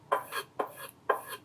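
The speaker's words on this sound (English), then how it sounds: "Let's give it a couple strokes with the strop." Kitchen knife blade stroked along a leather strop: three soft, close paired swishes in an even back-and-forth rhythm, with no talk.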